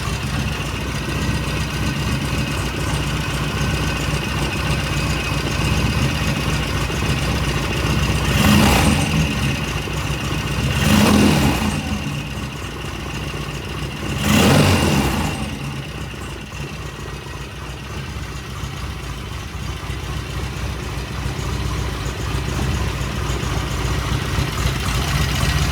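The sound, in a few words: engine idling around 900 RPM on first start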